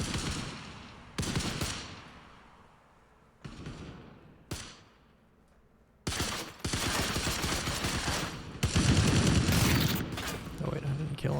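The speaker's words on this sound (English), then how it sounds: "I hear so much shooting" Bursts of automatic gunfire in the online shooter Anarchy Legends Online come in loud, choppy stretches with short gaps, growing denser and heavier toward the end, and a voice talks over part of it.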